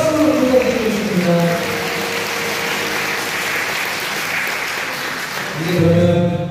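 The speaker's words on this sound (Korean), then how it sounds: "신랑 신부 인사! 네, 큰 박수로 부탁드리겠습니다." Guests at a Korean wedding ceremony applaud the bride and groom, a broad, steady wash of clapping that holds for several seconds with faint voices and background music tones beneath it.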